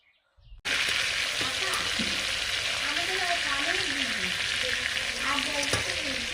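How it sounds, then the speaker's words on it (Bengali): Sea chela fish being turned and fried red in a pan: after a brief quiet start, a loud, close, continuous sizzle sets in and holds steady, with faint bird chirps in the background. "মাছটা উল্টে দেব আমি এই যে এরকম লাল লাল করে ভেজে নেবো"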